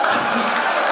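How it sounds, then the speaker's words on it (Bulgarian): A crowd claps continuously at a wedding celebration after a marriage proposal, a dense, steady wash of applause heard close, with faint chatter mixed in. "Аплодисменти."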